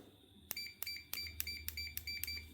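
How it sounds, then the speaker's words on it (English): A Fluke multimeter sounds its continuity beep eight times in an irregular series, each a sharp tonal bleep with a click at the start, over a faint low hum. "Fluke has the best continuity beeps"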